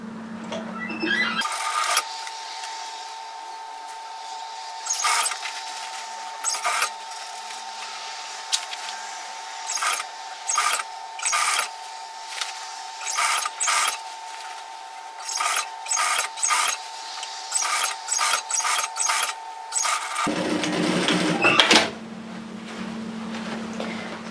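A sewing machine runs rows of stitching along a messenger bag strap in many short, rhythmic bursts separated by brief pauses, close and steady over a faint background hum.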